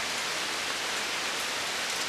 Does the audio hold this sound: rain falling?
yes